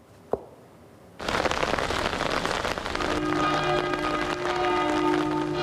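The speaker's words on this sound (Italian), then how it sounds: "Sotto una pioggia incessante, amici e parenti si sono riuniti per dare l'ultimo saluto a Michele Malenotti" Heavy, incessant rain pours down at an outdoor funeral, a dense steady hiss that starts abruptly after a sharp knock and continues loudly, with faint tonal sounds entering beneath it.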